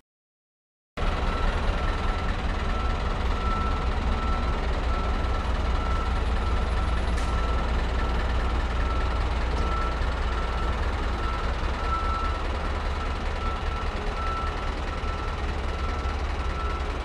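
Toy digger trucks reverse with a steady electronic beeping over a constant mechanical rumble, loud and continuous after a brief silent opening.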